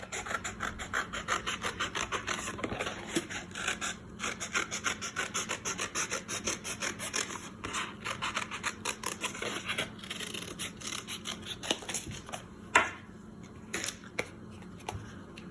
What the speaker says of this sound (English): I'm gonna take my scissors and I'm gonna cut it out